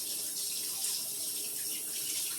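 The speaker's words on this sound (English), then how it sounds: "And give my hands a quick rinse." Hands rinsed under a running kitchen tap: a steady, even stream of water splashing into a sink, close and unbroken, with no voices.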